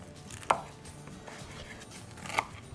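A knife slices through a crispy steak and onion naan bread pizza, two sharp crunching cuts about two seconds apart against a quiet room, close and distinct with no speech.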